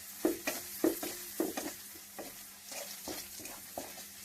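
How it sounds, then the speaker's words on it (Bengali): Garlic and onions crisping in a frying pan while being stirred, a steady close sizzle broken by several sharp scraping stirs, for a spicy poultry roast. "আমি ক্রিস্পি ক্রিস্পি দিয়ে ভাজছি।"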